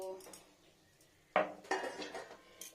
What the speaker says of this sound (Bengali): ঢাকাটা খুলি